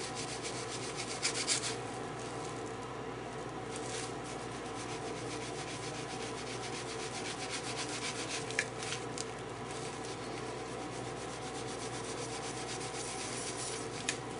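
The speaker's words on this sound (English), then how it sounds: "Slowly rock the cap back and forth while applying pressure. And the sharp steel will eventually cut through the aluminum." Sharp steel tool slowly rocked under pressure to cut through the aluminum cap of an old capacitor during a Philco 39-30 radio restoration, giving a steady close scraping and rubbing grind with a few brief clicks.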